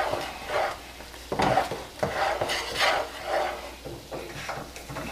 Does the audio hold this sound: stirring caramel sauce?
yes